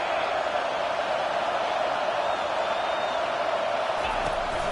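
A football stadium crowd roars in a steady, dense wash of cheering on a third down, sustained at an even level throughout with no clear breaks.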